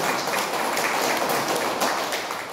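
A church congregation claps together in sustained, dense applause, loud and even across the whole stretch with no break.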